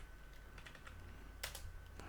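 Someone types on a computer keyboard while entering data into a table in MS Access, with a few quiet, irregular key clicks and one sharper tap near the end.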